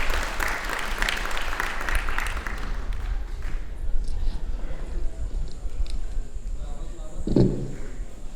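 An audience at an Afghan Independence Day celebration in Melbourne claps, a busy wash of applause that thins out and fades as a voice speaks, with a brief louder burst near the end.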